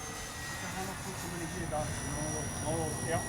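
An FMS Pilatus PC-21 radio-controlled plane, gear down with landing flaps up, passes by with a faint buzzing engine note that rises and falls, while someone talks over it.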